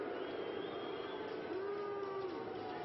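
Rugby Premiership stadium crowd grumbling and jeering in displeasure, a dense continuous roar of many voices with a rising, wavering groan partway through, loud and close throughout.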